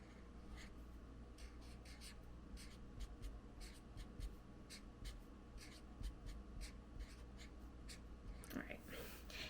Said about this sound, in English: I always just like to do it with a pencil first.